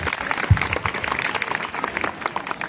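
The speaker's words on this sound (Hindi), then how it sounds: "तो आशीष के लिए एक जोरदार ताली हो जाए" Applause from a school audience for a seventh-grade student about to recite a poem at a Netaji birthday celebration, many hands clapping steadily at moderate volume, with one sharper thump early on and no speech.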